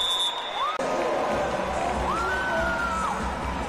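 Home crowd at a Butler women's college volleyball match against Purdue cheering after an ace, a sustained roar with rising whoops and whistles under a commentator's voice.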